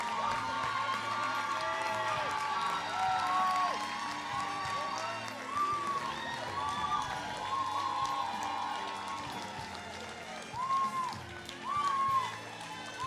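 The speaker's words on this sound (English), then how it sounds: "I want you to put your hands together for Jacqueline May Dunkley Brown" An audience at a long service awards ceremony in Jamaica claps and cheers; the applause swells and fades and runs under overlapping voices and loud speech.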